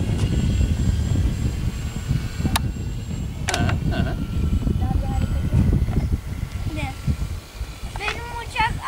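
A steady, buzzing engine drone from a Yak-54 model airplane in flight, shaking in the air, with people talking over it toward the end.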